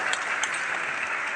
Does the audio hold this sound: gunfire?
no